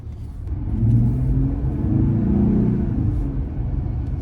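A Jeep Gladiator engine rumbles and revs up as it accelerates through a parking lot, a steady low drone swelling and then easing, heard from nearby without voices.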